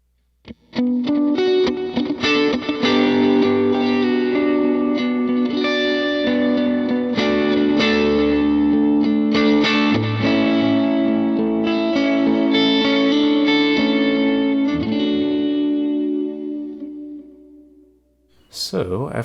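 Electric guitar run through two delay pedals stacked together, sustained chords and notes smearing into a dense wash of repeating echoes, loud and steady before trailing off near the end.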